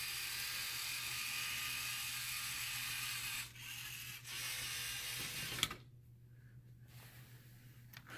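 A LEGO Mindstorms EV3 motor runs at 30% speed, giving a steady close mechanical whir with gear chatter that drops out briefly twice before a click and a quieter stretch.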